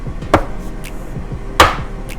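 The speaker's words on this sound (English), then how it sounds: "We are gonna cut this in small chunks." Knife chopping brown sugar boba dough into quarter-inch chunks on a board, two sharp distinct cuts among softer repeated taps, close and clear, with no talking.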